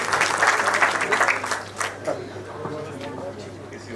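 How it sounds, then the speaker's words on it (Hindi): An audience at a book launch event claps enthusiastically, dense applause that is loudest at first and then thins out, with a voice talking over it. "तो बहुत जोरदार तालियां के लिए बजा।"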